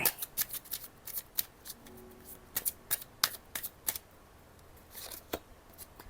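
Tarot cards shuffled and drawn by hand, a quick series of crisp riffling snaps and flicks close up, irregular in rhythm, with no talking over them.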